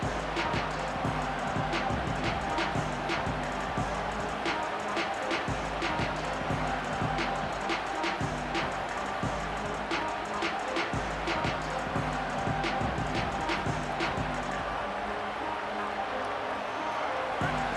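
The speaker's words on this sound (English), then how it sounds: "It's early, but this crowd is fired up. Listen to this noise here." A stadium crowd in the EA Sports College Football video game roars as a dense, sustained wash of noise, punctuated by rhythmic bursts of clapping or chanting, with voices mixed in throughout.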